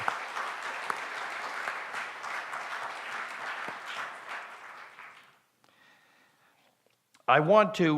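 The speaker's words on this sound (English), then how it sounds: "Big round of applause for His Excellency Jakaya Kikwete." Sustained audience applause at a gala celebration in New York City honoring Jakaya Kikwete, loud and steady for about five seconds before fading out, followed by a brief quiet gap and then a burst of voice at the end.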